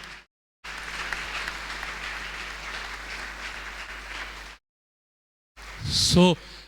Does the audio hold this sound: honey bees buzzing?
no